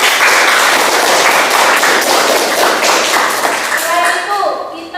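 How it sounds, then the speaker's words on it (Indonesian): Classroom applause for a pupil, a dense burst of many hands clapping that stays loud for several seconds before voices begin to come through near the end. "tepuk tangan untuk Bintang"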